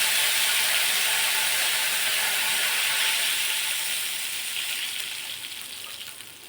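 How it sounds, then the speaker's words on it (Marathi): Water poured into a hot pan of spices with turmeric and red chilli powder, giving a loud, steady steaming hiss that slowly fades over several seconds, with no voices. "लगेचच पाणी टाकायचं आहे"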